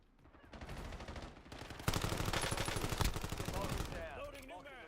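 Rapid automatic gunfire from Call of Duty Warzone, a dense stream of loud shots building over a few seconds with a brief louder burst midway, then tailing off under a faint voice.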